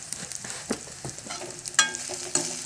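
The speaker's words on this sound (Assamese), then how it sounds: "ভালদৰে লৰাই ল'ম" Taro leaves with turmeric and salt are stirred in a hot pan, giving a soft continuous sizzle with several sharp scraping strokes of a spoon, close and clear.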